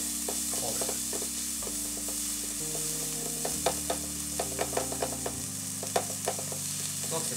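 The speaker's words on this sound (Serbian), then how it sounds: "Dok se paprika i pršuta lagano prže" Bell pepper and prosciutto frying in a pan for an Italian frittata, a steady sizzle under a low background hum, punctuated by several sharp clicks and scrapes of stirring.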